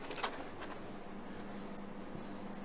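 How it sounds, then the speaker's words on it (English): Handwriting strokes, a pen or marker scratching across a surface in short bursts over a steady low background hum, fairly faint and with no voice. "So let me write it down."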